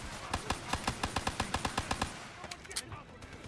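Rapid semi-automatic pistol gunfire in the Call of Duty Black Ops 3 campaign, a fast regular string of about fifteen sharp close shots over two seconds, then a few scattered impacts and game effects.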